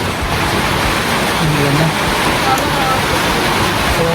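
Rain falling at night, a steady wash of rainfall hissing in the background while a person talks over it briefly.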